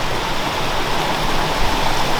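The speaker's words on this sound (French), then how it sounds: "Donc voilà l'arrivée ici de la cascade." Water spilling into a small waterfall at a nature hotel in Alsace, a steady full rushing splash, close and loud, continuous without pauses.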